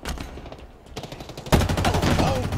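Gunfire in Halo Infinite during an Oddball match: a softer patter of rapid shots that turns into a loud, dense burst of automatic fire halfway through and keeps going to the end.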